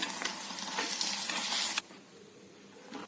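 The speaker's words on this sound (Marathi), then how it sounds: "कढईत तेल घालून घेतलं होतं, त्यातच आपण हे पनीरचे पीसेस आपण याच्यात परतवून घेणार आहे" Paneer pieces fry in hot oil in a kadhai with a steady, close sizzle that drops to a quieter hiss partway through, as though the heat eased or pieces shifted.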